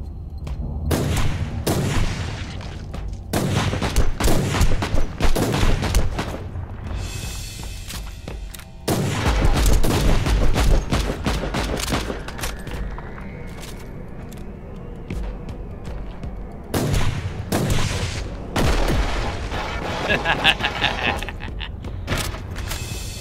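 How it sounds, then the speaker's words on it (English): Long las laser sniper rifle fire in the Warhammer 40k: Inquisitor Martyr video game, loud sharp bursts and booming volleys in irregular clusters, with mechanical creaks and lulls between the shots. "there is a long las, which is a laser sniper rifle."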